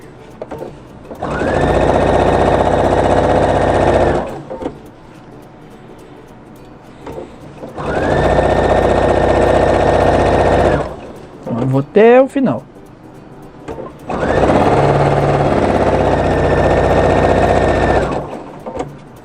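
A sewing machine stitching a dish towel runs in three long, steady bursts of whirring stitching, with short pauses between; a person speaks briefly during one gap.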